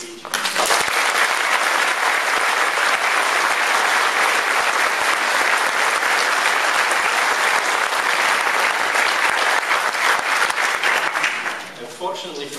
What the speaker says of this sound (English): So I think we should actually applaud him at this stage.